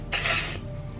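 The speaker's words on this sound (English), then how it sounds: "a shine spray, a glass finish by Mark Hill" Mark Hill Glass Finish shine hair spray sprayed onto hair in a single close, steady hiss lasting about half a second, with no talking.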